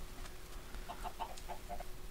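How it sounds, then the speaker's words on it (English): Minecraft chickens cluck faintly in a short run of soft clucks over a quiet background, with no talking. "Hello, chickens."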